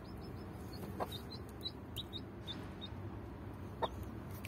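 A hen with her six chicks gives a few soft clucks over a steady stream of high, thin chick peeping, close by outdoors, with no talking.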